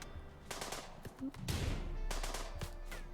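Rapid bursts of gunfire from a firefight in the colony-sim game Rimworld, with clustered volleys of shots and short pauses between them, loud and close, with no talking.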